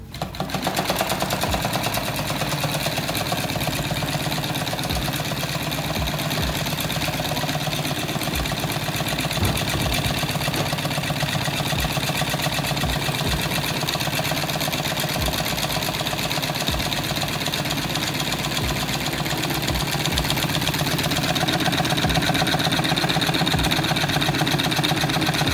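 A Stirling engine generator running with its belt off and the generator disengaged, near 500 RPM, makes a steady, fast mechanical clatter and hum with regular ticking throughout, loud and close, with no speech.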